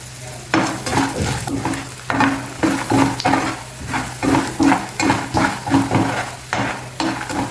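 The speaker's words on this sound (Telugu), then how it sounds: "ఇప్పుడు ముందుగా పల్లీలు వేసి వేయించుకుందాం" Peanuts and lentils frying in oil for a tempering for gongura pulihora, with a steady sizzle under rhythmic scraping stirs of a spoon in the pan, repeated roughly every half second.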